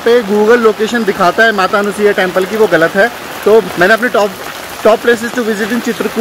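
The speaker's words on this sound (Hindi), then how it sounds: "हो सकता है आपको छाते के ऊपर पड़ती हुई बारिश की आवाज़ें बहुत ज़्यादा" Heavy rain drums on an umbrella in Chitrakoot, a steady patter that stays under continuous close speech throughout.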